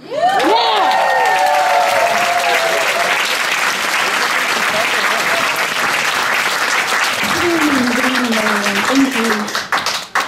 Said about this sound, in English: Please, a very warm welcome and round of applause for Nevena Hristozova